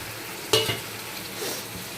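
Fried puti fish goes into a sizzling spice masala in a pan, with one sharp clatter followed by a steady close hiss of frying and light stirring.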